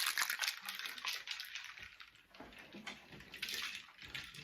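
Gin poured into a cocktail glass with hand sanitizer and olives, a close splashing liquid stream with crinkly clinking mixed in, running continuously for a few seconds without talk.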